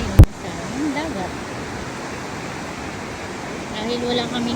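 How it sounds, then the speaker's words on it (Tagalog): Sea water washing over fresh cashews held in a net, a steady broad rush of surf with a sharp splash at the start and faint voices in the background. "Naghuhugas tayo ngayon sa dagat."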